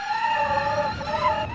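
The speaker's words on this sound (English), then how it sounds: "the nicest reversing sound I've heard from a car" A car in the BeamNG driving game sounds a reversing tone, a steady tonal whine that wavers slightly in pitch and holds loud and close for the whole moment, with no talk.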